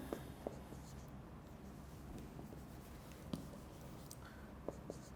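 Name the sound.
writing on a board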